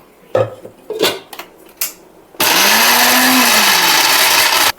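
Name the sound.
mixer grinder blending green curry paste with ice cubes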